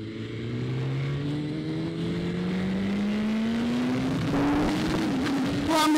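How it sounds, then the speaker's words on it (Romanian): BMW S1000RR sport motorcycle accelerates hard, its engine note climbing steadily in pitch through a gear, loud and close and continuous for several seconds. "Doamne, ce trage motoreta asta!"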